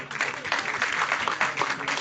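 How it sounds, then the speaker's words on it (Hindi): Audience applause at an Igas festival gathering, a dense, even patter of many hands clapping from a moderately distant crowd, continuous throughout with no clear voices over it. "तो जोर की तालियों के साथ"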